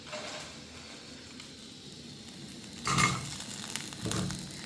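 Fried sweet corn stirred into sizzling masala in a pan: a steady low frying sizzle with scraping stir strokes and a couple of louder clatters of the spoon against the pan, close up.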